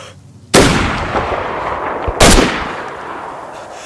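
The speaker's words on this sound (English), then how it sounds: "Somebody's sending grenades this way." Two heavy grenade blasts in a video game, each a sudden loud burst trailing into a long rumbling decay, about 1.7 seconds apart, with no talk over them.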